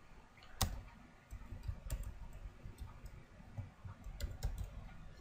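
Scattered clicks and keystrokes come from a computer keyboard as HTML code is typed, sparse sharp taps close by over a faint room hiss.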